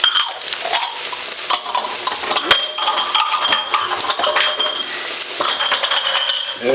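A spoon stirs thyme, salt and pepper into Guinness stew in a pot, with continuous scraping and gentle sizzling punctuated by light metallic clinks against the pot, close and fairly loud with no talking.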